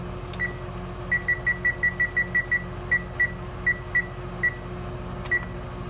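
A kitchen timer beeps in a quick run of short, evenly spaced tones, then slows to a few spaced beeps over a steady background hum.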